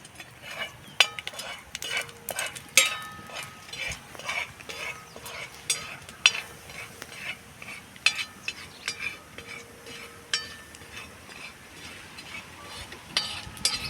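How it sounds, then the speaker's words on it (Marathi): Corn kernels with turmeric are stirred in a hot pan for popcorn, making close, quiet, irregular scraping and rattling strokes over a faint sizzle, with sharp clinks of the spoon against the pan. "तर हे थोडा वेळ असंच हलवून घ्यायचं आहे तर पूर्ण गरम झाले की मका मग त्याचे पॉपकॉर्न तयार होतात"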